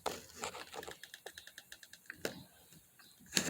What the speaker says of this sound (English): And it's pumping.